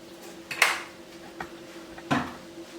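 A kadai pan is set on a home kitchen stove for pav bhaji and sunflower oil goes in, making two distinct metallic clanks about a second and a half apart, plus a faint tap between them, in a quiet room.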